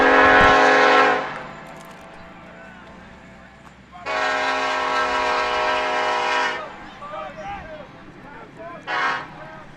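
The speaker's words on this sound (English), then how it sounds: "There's that beautiful train again." A train passes near a Legion baseball game, its horn blaring in three loud blasts, two long and one short, over low rumble and scattered crowd and announcer chatter.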